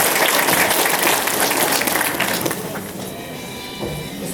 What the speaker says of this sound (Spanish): doctora Evelyn López Ucara, para quien pedimos un fuerte voto de aplauso